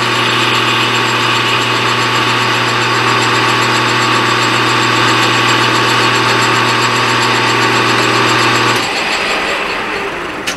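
A metal lathe takes a light cut on a part for a valve grinding machine, a steady humming machine tone with constant broadband hiss that cuts off abruptly near the end.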